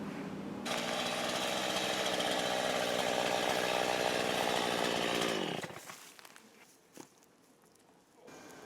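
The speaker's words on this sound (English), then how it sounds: "the bobcat's got a mower on the front to chop up the limbs" A bobcat loader with a mower attachment on the front chops up broken tree limbs, a loud, steady grinding roar for about five seconds that abruptly cuts off, leaving faint distant rustles and a brief knock.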